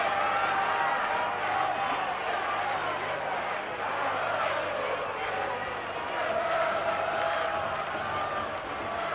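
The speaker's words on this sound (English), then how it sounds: "Now we'll hear the chant from the Argentine crowd." Argentine supporters chant at a 1987 Argentina versus Australia rugby test match, a distant, continuous crowd roar with rising and falling sung tones carrying across the stadium at steady volume.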